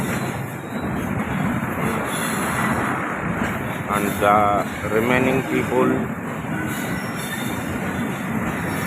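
Train at Rohri railway station, a steady rumble of rolling cars with squealing wheels running throughout, while people talk nearby over the noise.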